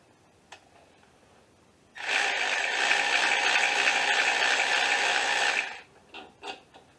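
Ratchet tightening the 13mm brake hose bolts on a 2012 Jeep Patriot front strut, one continuous fast clicking run of nearly four seconds, close and clear, followed by a few brief metallic taps.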